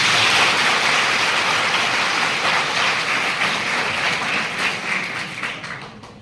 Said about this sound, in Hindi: अपने लिए जोरदार ताली बजाएं।